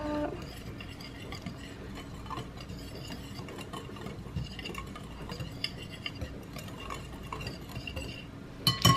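A spoon stirs a psyllium husk and xanthan gum mixture in a bowl, giving soft continuous scraping with scattered light clinks and a louder knock at the end.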